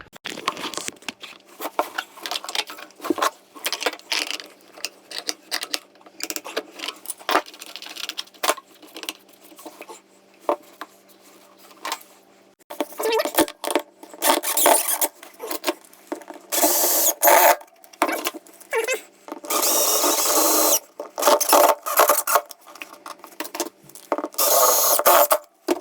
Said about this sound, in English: what we're going to do is going to screw them straight into the floorboards and the laminate flooring